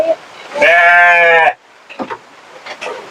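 A sheep bleats loudly and close by in one long wavering call, followed by quieter rustling and faint scattered sounds.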